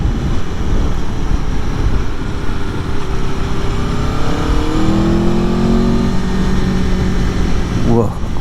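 An Aprilia Tuono motorcycle engine drones loud and close during a ride, with rising and falling pitch as it accelerates, under heavy wind rush.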